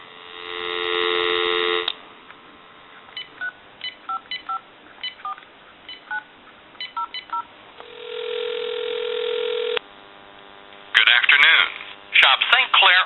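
A telephone line on a General Electric cordless phone under repair: steady dial tone, then a string of short touch-tone dialing beeps, another sustained tone, and warbling line signals at the end, loud and close.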